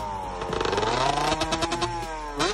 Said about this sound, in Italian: Abbiamo un TM 125 con scarico modificato.